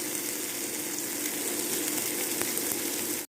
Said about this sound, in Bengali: এখন চিকেনটাকে খুব ভালো করে রান্না করে নেব